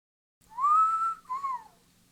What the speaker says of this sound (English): let out a long whistle